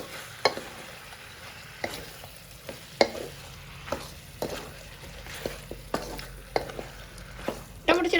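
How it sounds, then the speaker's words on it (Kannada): Chicken frying in a pan with tomatoes added, a soft continuous sizzle punctuated by sharp clicks and scrapes of a stirring spoon at irregular intervals. "ಚಿಕನ್ ಉಪ್ಪು ವರ್ಷದಲ್ಲಿ ಚೆನ್ನಾಗಿ ಫ್ರೈ ಆಗಿದೆ ಟೊಮೊಟೊ ಹಾಕ್ತಾ ಇದ್ದೀನಿ"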